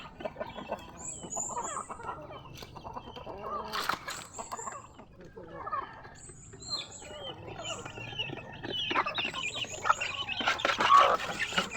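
Pet chickens and ducks clucking and chirping at morning feeding time, with scattered quacks and rustling close by, plus occasional soft human voices in the background.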